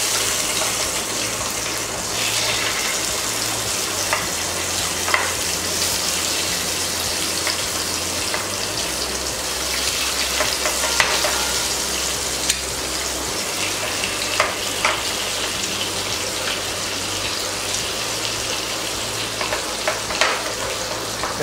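Idlis are laid into a hot pan with a little oil and turmeric over low gas, giving a continuous close sizzle and crackle with occasional small clicks and taps, and no talking.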